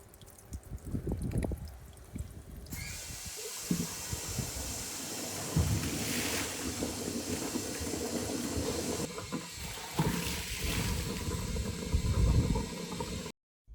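Air is blown through a swimming pool's skimmer line during winterizing, giving a rushing hiss with bubbling, gurgling water, fairly loud and continuous with surges and no talk.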